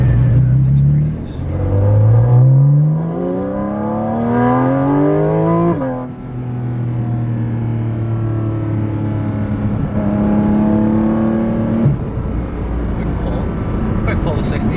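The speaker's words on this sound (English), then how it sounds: "Quick pull to 60 in second gear." A Porsche GT4RS with its 4.0-liter flat-crank engine accelerates hard in second gear, its loud, close engine note climbing steeply in pitch in repeated pulls with brief dips between them.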